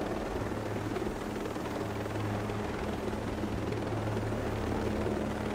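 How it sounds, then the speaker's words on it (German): An armed helicopter flies in the Ghost Recon Breakpoint video game, its rotor thumping in a steady low drone with an even whine above it, moderately loud and constant and with no voices over it. "Gut, ich habe jetzt einen bewaffneten Heli."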